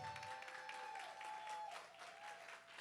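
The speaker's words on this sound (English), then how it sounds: "Ladies and gentlemen, I need a better round of applause for Vashi D'Vrai." Audience applause at a birthday celebration and podcast network launch, a sustained, steady round of clapping from a crowd filling the room at moderate level, with faint tonal hum running underneath.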